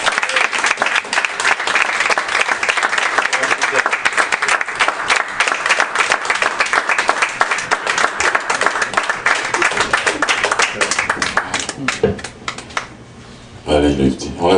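Loud, close audience applause for the poet Franck Etienne at an evening event, dense rapid clapping that holds steady for about twelve seconds before dropping away as a voice comes in.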